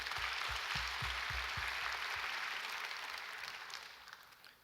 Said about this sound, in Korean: 이 큰 일을 이루어 주신 하나님께 우리 다시 한번 영광의 박수를 드리겠습니다.